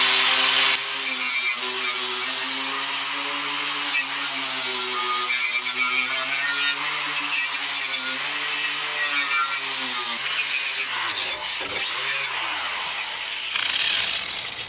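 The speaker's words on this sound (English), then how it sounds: "I'm going to go ahead and take that surface rust off." A power tool whines steadily as it strips surface rust from the top plate of a motor on a Ken Bar Streaker SC7, a sustained grinding drone with a wavering pitch, close and loud, dipping briefly near the end before resuming.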